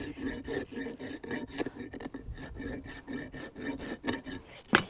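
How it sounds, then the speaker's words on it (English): A farrier's rasp files a horse's hoof wall in steady back-and-forth strokes, close and fairly quiet, a dry rhythmic scraping with no voices. "Smooth side of the rasp to the hoof wall."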